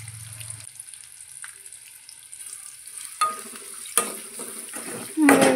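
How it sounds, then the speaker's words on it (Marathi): Sliced onions frying with curry leaves in a hot pan, a steady soft sizzle with occasional stirring clatters and a louder scrape near the end, no talking. "व्यवस्थित गोल्डन फ्राय होईपर्यंत आपल्याला कांदे भाजून घ्यायचे"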